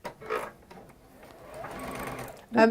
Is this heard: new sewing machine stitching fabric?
yes